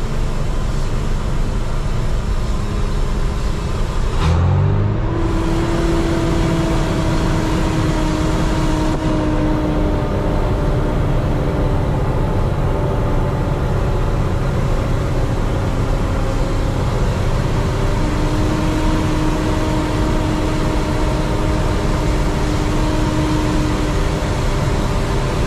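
A truck loaded with potatoes works down a winding mountain road between Mucugê and Andaraí, its engine droning steadily, with a gear change early on that shifts the tone to a higher, sustained whine.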